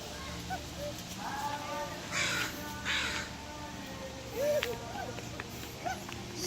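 A bird caws a few times in the open air outdoors, moderately loud over a steady background hiss, with faint voices in places.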